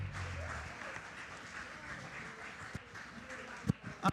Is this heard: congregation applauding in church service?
yes